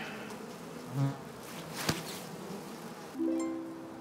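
Faint buzzing of a locust swarm drifts in and out, with a couple of louder buzzing passes and a sharp click in the middle.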